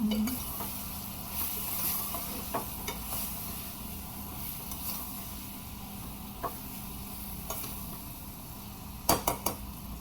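Eggplant and potato curry frying in hot oil tempering: a steady low sizzle, with faint stirring scrapes and a few sharp metallic clinks near the end.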